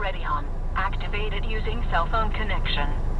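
A 70Mai 1S dashcam plugged into USB power gives its startup sound, a voice-like announcement from its small built-in speaker that lasts about three seconds at steady, moderate loudness.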